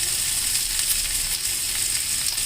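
Pumpkin pieces fry in a pan for a mixed-vegetable kootu, giving a steady, close, even sizzle that holds unbroken throughout with no voices.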